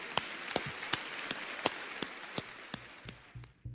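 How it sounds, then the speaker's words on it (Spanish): Evenly spaced single hand claps, roughly one every third of a second, crisp and close over a faint hiss, with the rhythm loosening and fading toward the end. "¡Fuerte aplauso!"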